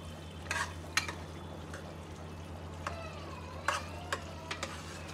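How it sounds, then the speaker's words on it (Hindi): Minced meat keema is stirred and roasted in a pan: quiet, intermittent scraping strokes of a spoon come at an uneven pace over a faint, low frying hum. "1-2 मिनट के लिए इसे चलाएंगे और अच्छे से भूनेंगे"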